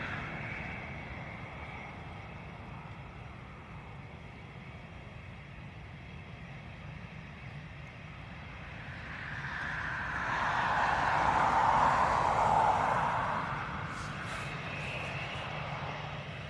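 An ATR turboprop comes in to land at Dublin Airport, a steady distant engine drone that swells to a louder roar past the midpoint before easing off, with no talk.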